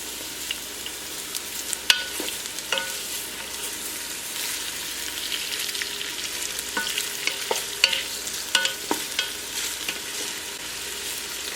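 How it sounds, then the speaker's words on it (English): Meatballs sauté in a pan with a steady, crackling sizzle, broken up by scattered sharp clicks and scrapes of a utensil turning them. No voices are heard. "So we'll just let these saute in the pan until they get nice and brown."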